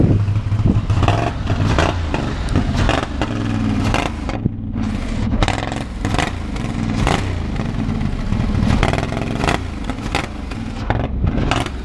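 An off-road buggy with a swapped engine revs its exhaust up close, loud, uneven bursts of throttle with popping, clattering blips and brief dips between pulls.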